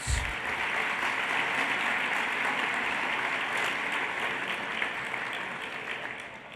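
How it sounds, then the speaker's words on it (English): Diners at the 2019 NFHS Citation Awards luncheon clap for the serving crew in a steady, even wash of applause that carries for several seconds and tapers off slightly at the close. "Please join me in giving our serving crew a round of applause for their efforts."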